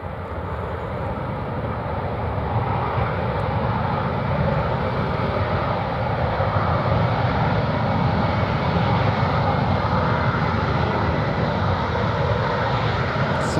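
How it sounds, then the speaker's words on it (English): A Gulfstream 5 business jet touches down at London Stansted Airport, its engines giving a loud, steady broadband roar that holds close and constant throughout, with no voices. "here's the business jet. Just touched down."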